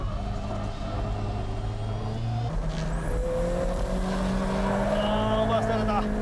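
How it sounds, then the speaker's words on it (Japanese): A 600-horsepower tuned car accelerates hard in a mountain touge race, its engine note climbing through gears with tire noise, loud and close, under excited commentary. "さすが600馬力の加速。"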